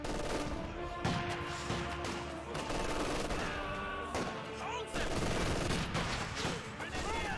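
Sniper and rifle fire crackle through a Company of Heroes 2 battle, with repeated sharp shots and bursts over a dense, continuous combat din, while a voice talks over it.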